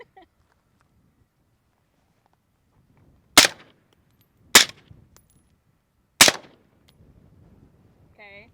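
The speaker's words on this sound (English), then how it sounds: "Des, try it out in semi-auto." Three sharp, loud shots from a PSA Sabre 18 rifle fired in semi-auto, spaced about a second or two apart, each a sudden crack with a quick tail, with quiet between and faint rustling afterward.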